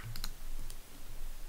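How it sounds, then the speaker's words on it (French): A few quick key clicks on a Mac computer keyboard, light and close, a short pair of taps followed by a fainter click over quiet room noise. "j'appuie bien sur la touche Option de mon clavier si vous êtes sur Mac"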